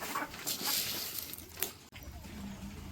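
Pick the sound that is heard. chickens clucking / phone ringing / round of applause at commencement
chickens clucking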